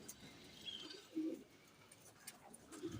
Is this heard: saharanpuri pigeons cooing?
yes